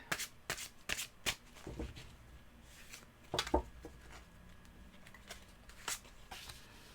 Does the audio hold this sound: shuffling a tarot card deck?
yes